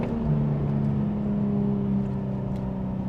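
A Nissan 350Z engine pulls steadily through a second-gear turn, a continuous close droning hum with a slowly shifting pitch that stays loud and even for the whole stretch, with no talk over it.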